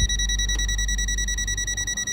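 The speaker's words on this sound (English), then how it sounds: "the buzzer will sound quickly, and the red light on" A Habotest HT123 digital multimeter's NCV buzzer beeps rapidly and continuously on detecting a strong electric field, a steady high-pitched electronic tone that is close, loud and alone, with no talking.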